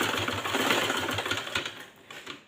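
A sewing machine runs a quick, close burst of stitching along a kacha patti hem edge, a rapid even chatter that fades toward the end, with no voices.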